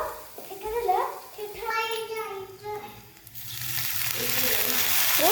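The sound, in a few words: vegetables frying in a pan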